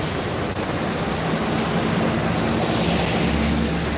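Strong wind gusting outdoors near a jammed stretch of the Cikampek toll road, a steady, loud broadband roar that holds unbroken for the whole stretch, with no voices.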